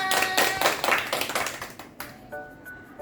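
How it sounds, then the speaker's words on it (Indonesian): A classroom group claps after a student presentation, a short burst of quick hand claps that quickly thins out, with a few light taps and faint ringing tones lingering at the end. "Tepuk tangan."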